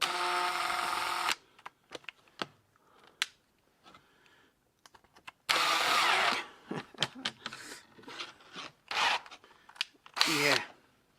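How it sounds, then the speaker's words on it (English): A power drill with a 6mm bit bores into a Gazelle bicycle frame, giving short loud whirring bursts separated by quiet gaps and small clicks and handling noises. "And now a 6mm drill bit."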